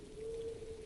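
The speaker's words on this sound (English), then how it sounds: "On the roof, the rain sounded different." Rain pattering steadily on a roof, a soft, continuous broadband patter with a faint low roar beneath, even and unbroken throughout.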